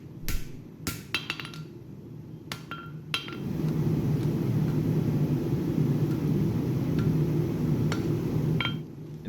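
A cross peen hammer forges a tomahawk blank on an anvil edge, with a handful of sharp, ringing metallic strikes early on. A steady low roar follows and carries on to the end, with faint ticks over it.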